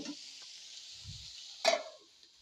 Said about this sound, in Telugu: ముందు ఫస్ట్ కాలీఫ్లవర్ వేసుకొని ఇది కొంచెం ఫ్రై అయిన తర్వాత అప్పుడు టమాటాలు అయితే వేసేసుకున్నాం